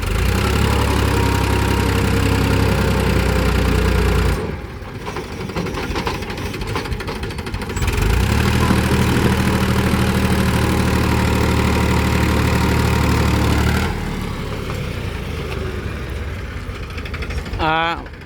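Sonalika and Power tractor engines labour up a slope, loud and continuous with a heavy throbbing drone that dips and rises as the load shifts, and voices calling out over the noise.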